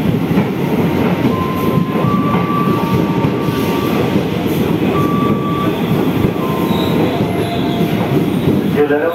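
A commuter train bound for Cikarang passes with a steady loud rumble of wheels on rails and thin intermittent wheel squeals riding on top, sustained throughout and close.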